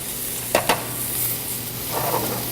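Steak sizzling in a pan with butter, garlic and thyme, a steady close crackle with two sharp clanks of a utensil early on and a brief flare of spitting later.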